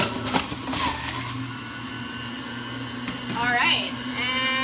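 Kitchen blender running on its low setting, crushing ice with a steady low motor hum and a brief rising whine near the end, fairly close and continuous without talk.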